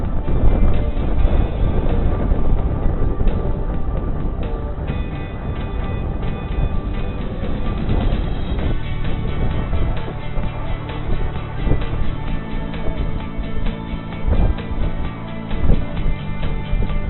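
Strong wind roars steadily past a sailboat on Lake Michigan in gusts up to 27 knots, a loud, constant rush buffeting the microphone, with low rumble and hull noise underneath and no pauses.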